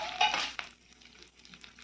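Green chillies and garlic drop into hot oil for a peanut chutney, a brief burst of sizzle and a metal clink, then quieter, fading frying with faint stirring.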